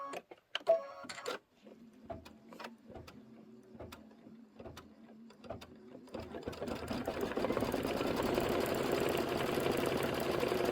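A Kimberbell embroidery machine stitches a placement line and tack-down on fabric with a steady, rapid mechanical rhythm, close and clear. Partway through, a louder continuous hissing wash takes over.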